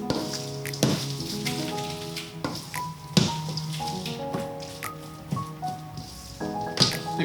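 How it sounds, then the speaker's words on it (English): Christmas pudding batter stirred by hand, egg worked into dry ingredients and fruit, giving soft wet squelches and spoon taps at an irregular pace, close and fairly quiet with faint kitchen hum beneath. "now we mix this thoroughly. Just get that egg combined into all the dry ingredients and the fruit."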